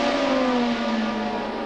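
Formula 1 race cars from 1979, a Renault and a Ligier, scream past in a sustained high-pitched engine howl, loud and steady with a slight pitch slide as they race at the German Grand Prix.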